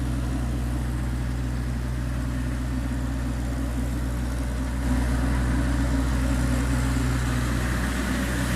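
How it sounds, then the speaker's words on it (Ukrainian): A warmed-up D-20 diesel engine running on used motor oil idles steadily and smoothly, a close, even low rumble that holds without a break. "Ось прогрілася машина, вже диму немає. Машина працює рівно, чудово."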